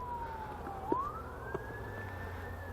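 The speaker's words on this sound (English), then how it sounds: "That siren's going to sound nice and cool in the video" A distant siren wails, its pitch dipping then rising in a long sweep over a low background rumble.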